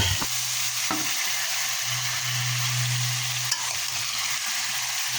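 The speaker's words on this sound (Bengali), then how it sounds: "এবার কলার থোরটা ভালো মতো নেড়ে নেব।" Chopped banana stem fries in a pan with onion and dried chili, a constant close sizzle under repeated scraping and stirring strokes, punctuated by a couple of sharp clanks of utensil against metal.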